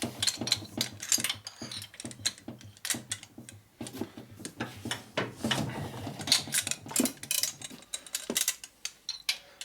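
A wrench tightens bolts on a 1961 Harley-Davidson FL 74ci panhead motor during a rebuild, giving repeated ratcheting clicks and metallic clanks in irregular bursts throughout, close and moderately loud.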